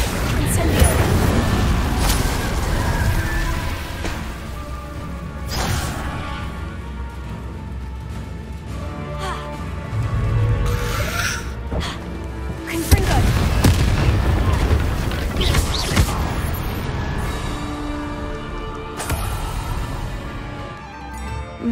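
Fiery Confringo and Incendio spell blasts in the video game Hogwarts Legacy, a series of booming bursts and crackling explosions spread through a loud, busy combat scene, with some hits stronger and sharper than others.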